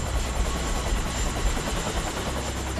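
A helicopter hovers close to a cliff face during a night rescue, its rotor beating in a loud, steady, rapid thump close by, with no voices.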